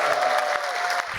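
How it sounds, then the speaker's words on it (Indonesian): Stand-up comedy audience clapping as a comedian is introduced, a brief burst of crowd applause with a held musical tone underneath. "Beri tepuk tangan untuk komika dari Malang"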